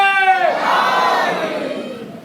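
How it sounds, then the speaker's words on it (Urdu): A religious gathering's crowd at a majlis loudly shouting the slogan Haidar in unison, a single loud, sustained massed shout that swells and then fades away. "نعرے حیدر"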